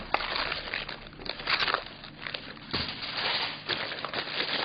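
Meat being wrapped tightly in banana leaves in a pan, giving continuous crinkling, rustling and crackling of the leaves with uneven bursts as they are folded and pressed, close and fairly loud.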